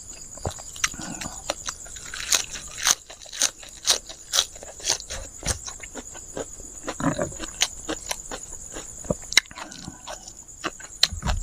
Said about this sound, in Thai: กินได้คำใหญ่แท้